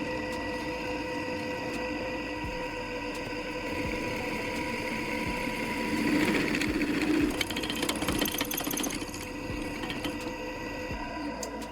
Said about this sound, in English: Using a drill press, I'm creating several holes in both the main base.